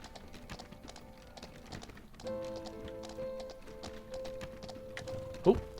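Horse hooves clip-clop in a steady rapid rhythm in the video game Nightsoil, over a low droning background, with a sharper thump near the end.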